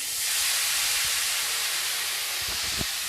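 Grated onion is dropped into hot oil with crackled spices for parwal sabzi, and the pan breaks into a loud, steady frying hiss that carries on with a few small pops near the end.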